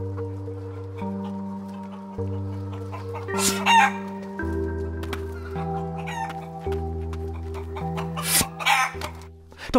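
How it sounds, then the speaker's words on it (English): Rare giant chickens crow and cluck in bursts, loud and close, over a steady layered droning background, with a few rough throaty coughing sounds mixed in. "Dr. Jack Rudy has tagged and mounted cameras on these two rare chickens so we can follow them in their daily routine"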